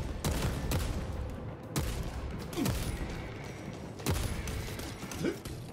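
Enemy gunfire in Warhammer 40,000: Space Marine 2 crackles in rapid volleys, sharp bursts spaced about a second apart over a steady rumble of combat, with mechanical clanks between them.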